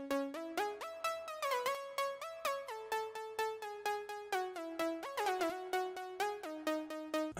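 A bright synth lead built in FL Studio recreates the melody of a song, playing a clean, rhythmic run of plucky stepping notes alone with no other instruments or voice.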